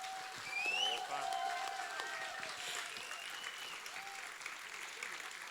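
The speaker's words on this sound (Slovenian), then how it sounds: "Dajmo en velik aplavz" Crowd applause at a reception for volleyball players: steady, dense clapping throughout, fairly faint and distant, with a few whistles and faint voices mixed in.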